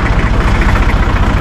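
Deutz tractor engine idling close by, a loud, steady low throb with an even rapid pulse and no break.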